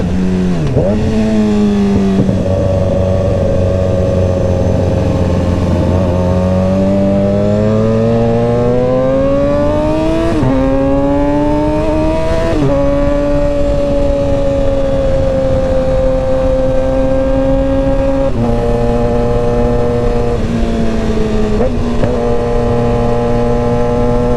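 A Yamaha R6 sport motorcycle fitted with a Dominator exhaust is ridden, its engine droning loud and close throughout with rising and falling revs as it accelerates and shifts through gears.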